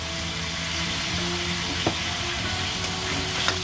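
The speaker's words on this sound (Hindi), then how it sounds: "थोड़ा सा 2-3 मिनट इसे हम फ्राई होने देंगे" Potatoes frying with salt in a pan: a steady, even sizzle throughout, with a couple of faint stirring clicks and no talking.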